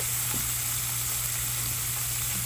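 Shrimp searing in hot oil in a pan, a steady close sizzle with a constant hiss that holds evenly, over a low background hum.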